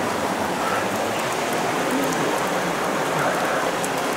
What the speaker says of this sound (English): Look at the water coming down off this rock.